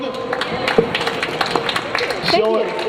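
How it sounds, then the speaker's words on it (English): Studio audience at a variety talk show giving a round of applause, a dense, fairly close clatter of clapping that runs the whole few seconds, with voices mixed in. "Can we have a round of applause for Sandy's show?"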